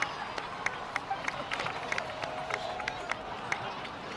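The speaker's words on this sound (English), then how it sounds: "please give another round of applause for them" Crowd applause in the Genshin Impact video game: a steady wash of many hands clapping, with sharper individual claps popping out at a fairly even rhythm, moderately loud and continuous throughout.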